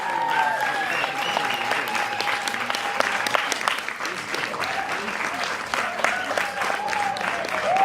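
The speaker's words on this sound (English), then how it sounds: "Give a round of applause for these guys." Audience applause at a Copenhagen dance showcase event, a dense steady clapping that fills the whole stretch, with cheers and whoops rising over it and a busy crowd atmosphere.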